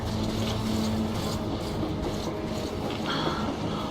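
A train in the video game Metro Exodus rumbles past with a steady, heavy roar and faint rhythmic clatter, filling the whole scene without any talking.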